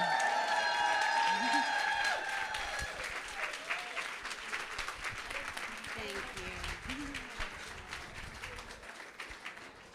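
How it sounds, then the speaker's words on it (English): Standing ovation at a Haitian ladies' network brunch in Washington DC, with loud sustained applause and cheering from a crowd that gradually fades over ten seconds, while some voices speak underneath. "she deserves that standing ovation and those applause"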